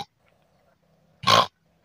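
A pig lets out a single short, loud grunt close by, rising abruptly out of near silence and cutting off after about a quarter second.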